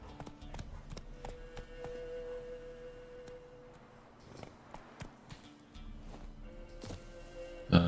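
Horse hooves of Roach in The Witcher 3, faint, steady clip-clop footfalls at a walking rhythm, with scattered game sounds around them.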